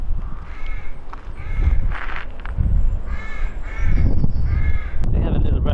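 Crows caw repeatedly outdoors beside a model railway layout, with harsh, rhythmic calls in quick series at moderate distance over steady background noise.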